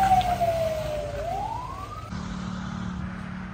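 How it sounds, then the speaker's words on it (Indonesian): An ambulance siren wails nearby in an evacuated village in Cianjur, sliding down and back up in pitch before settling into a steady droning tone, with traffic rumble underneath. "Sangat prihatin tuh, ambulan gak berhenti-berhenti guys ya."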